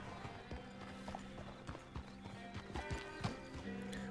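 Horse hooves clip-clop at a steady walking rhythm in Red Dead Redemption 2, with a soft game backdrop behind them and a faint chime near the end.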